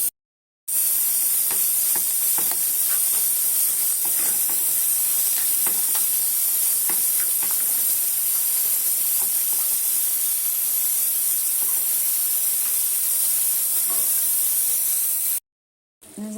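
Minced meat frying in a pan with tomato and sweet pepper makes a loud, steady hissing sizzle that runs unbroken from start to end, with brief silence at each edge.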